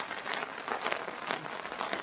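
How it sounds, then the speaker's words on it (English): Steady heavy rain pours down continuously, a dense hiss with patters and swells of harder drumming, close and fairly loud, no voices. "Oh, and the rain's getting hard"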